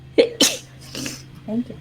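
A sharp sneeze bursts out, followed by a second quick burst, then a brief spoken reply in a quiet room with a low steady hum.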